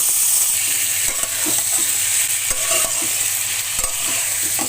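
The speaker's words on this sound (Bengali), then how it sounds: "আলুগুলো ভালো করে মশলার সঙ্গে মিশিয়ে দেবো।" Potatoes are stirred into a spice masala in a hot pan, giving a dense, close sizzle with repeated scraping and clanking strokes of a spoon against the metal, steady and loud throughout, with no talking.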